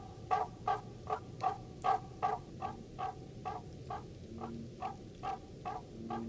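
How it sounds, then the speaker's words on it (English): Barking tree frogs, a large native tree frog, give a steady series of explosive, yapping calls about two per second, repeated a dozen times over a soft background chorus of other frogs at night. "The explosive calls of the barking tree frogs sound like the yapping of small dogs."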